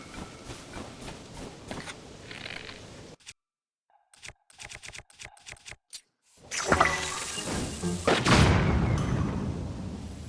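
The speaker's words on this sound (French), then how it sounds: "je visais avec une fleur bombe" A bomb flower bursts with a heavy boom in Zelda: Tears of the Kingdom, after a quiet stretch of scattered clicks and taps, then gives way to loud, sustained rumbling debris and game effects.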